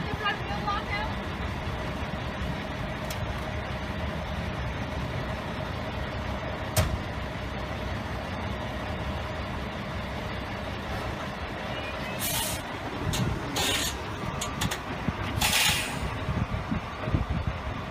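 A truck with a trailer being reversed so the front wheel block can be pulled out, a steady low engine rumble throughout with a few brief air-brake hisses and clanks near the end, amid faint background voices.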